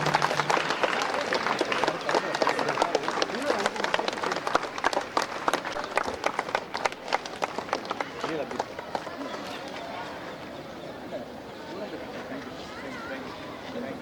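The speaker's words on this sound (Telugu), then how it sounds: "పిల్లలందరూ చప్పట్లతో ఉత్సాహపరచాలి." Schoolchildren clap at a police-organised sports meet at a boys' school in Armoor: dense, rapid applause from a crowd mixed with voices, strong at first and then thinning and fading.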